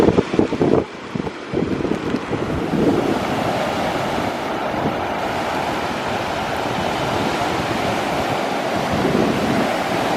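Ocean waves surging on a rainy beach, a steady roaring wash of surf with some wind buffeting the microphone early on, continuous and fairly loud, no talking.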